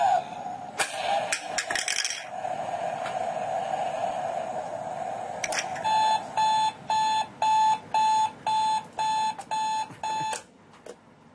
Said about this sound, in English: The alarm clock won't stop ringing until you get up